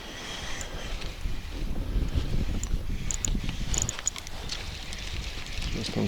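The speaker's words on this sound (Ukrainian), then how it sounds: "Ех, вітер" Steady wind buffeting the microphone beside a large lake while pike fishing, a low rumbling roar that persists throughout with faint higher hiss and occasional clicks.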